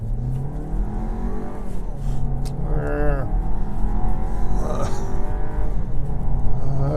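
A 2022 VW Tiguan R-Line SUV in sport mode accelerates hard: a steady engine drone climbs in pitch through the gears, with a quick shift near the middle and continuous road and cabin noise throughout.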